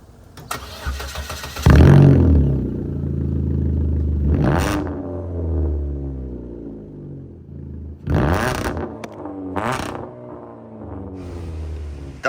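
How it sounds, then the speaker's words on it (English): Straight-piped exhaust on a skateboard-trick car that can kick flip, cranking over and starting with a sharp bark, then idling loud and rough with two hard revs flaring up near the end, close by and with no talk. "You guys got to hear this exhaust."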